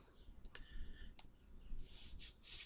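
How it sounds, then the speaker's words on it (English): Faint, close clicks from a computer mouse or similar input device, a few quick taps scattered over a quiet background with light rustling and no speech. "I'm going to scroll down and to the right and click download"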